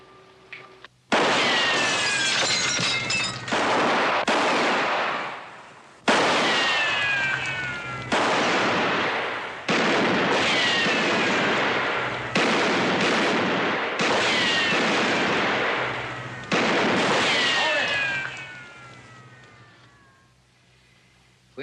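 Gunfire rings out in a western shootout, with a series of loud, echoing gunshots and sharp ricochet whines, some shots rapid and others spaced apart, and no talk.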